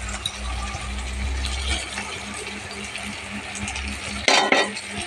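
A spoon stirs ginger paste and grated coconut in a pan, soft scraping and stirring with a low steady hum beneath and a sharper clatter near the end.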